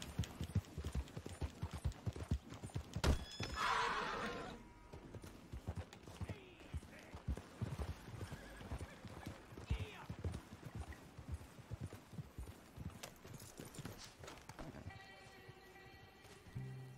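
Horse hooves clip-clop steadily in a Red Dead-style Western video game, a long run of quick, close hoofbeats with a brief whinny or snort early on. Faint background game sounds sit underneath.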